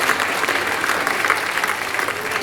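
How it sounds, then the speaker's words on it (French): Audience applause at a New Year's greetings speech event in a hall, a steady dense clapping from many hands lasting throughout, fairly loud and close with no speech over it. "Et je les applaudis aussi"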